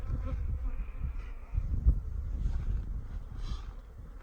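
Bees buzz softly around a frame pulled from an open honey bee hive, a low, steady drone with a brief louder bump partway through.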